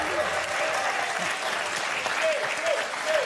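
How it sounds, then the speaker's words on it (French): A TV studio audience on a French game show applauds steadily throughout, a dense, even clapping with a brief voice heard over it. "Bravo, applaudissez Diego"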